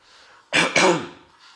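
A single close, short cough with two quick bursts, sounding somewhat like throat clearing, in an otherwise quiet room.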